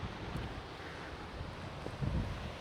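Wind gusts across an open hilltop trail near the summit, a steady rushing roar with microphone buffeting that swells briefly louder near the end.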